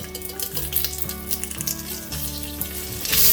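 Potatoes, carrots and king oyster mushrooms are quick-stirred with curry powder, lemongrass and curry leaves in a hot pan. The sizzle comes close, with regular scraping strokes under a steady tonal hum and a louder swell at the end.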